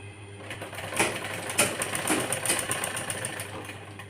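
A sewing machine runs steadily while stitching a strip onto a girl's frock, a close, fairly quiet mechanical whir with rapid needle clatter and a few faint clicks.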